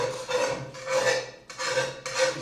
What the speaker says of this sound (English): scraping the remnants of egg into the trash can